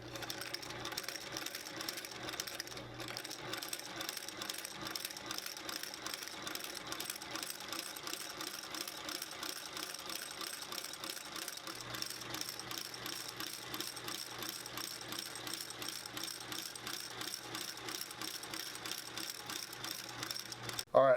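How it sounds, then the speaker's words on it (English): A stitching machine sewing the base of a handcrafted sandal gives a steady, rapid mechanical chatter of needle strokes with a faint hum, running continuously at moderate level throughout without voices. "All right, so we've stitched our base together."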